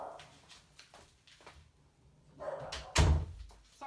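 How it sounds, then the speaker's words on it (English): A pet dog barking indoors in a few faint, scattered yelps, followed by a heavier thump like a door closing, all fairly distant and quiet. "Sorry for my dog barking."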